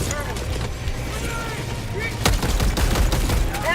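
Automatic and rapid gunfire from a Helldivers 2 weapon, dense bursts of shots growing louder toward the end as the magazine is emptied, with game sound effects and voices beneath.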